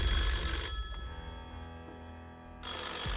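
A telephone rings on a 2005 Deal or No Deal game show set, with loud electronic ringing at the start and end and a quieter gap in between, and no talking.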